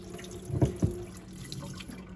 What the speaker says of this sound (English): I'm draining off that starchy water.